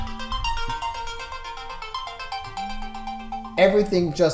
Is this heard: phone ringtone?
yes